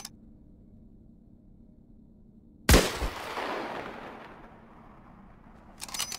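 A single loud gunshot in the battle royale game Islands of Nyne cracks sharply and rings off in a long decaying tail, followed by quiet, with a faint second report starting near the end.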